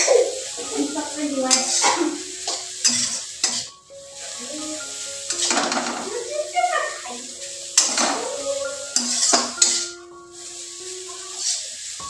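Metal utensils scrape and clink against a pan while chow mein is served out, with a faint sizzle underneath. The clatter comes in irregular bursts close by, and there is some background noise and voices.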